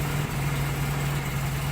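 A Mazda RX8 rotary engine idles with the clutch pedal held down, a steady low hum with faint vibration, alone and unbroken.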